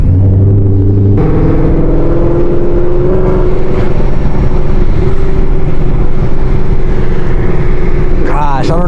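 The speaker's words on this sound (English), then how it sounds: "just like even barely giving it gas, just the noise that supercharger makes" Supercharged Ford Mustang engine under light throttle, a loud continuous rumble with a rising supercharger whine layered on top, close to the microphone, with a brief squeal near the end.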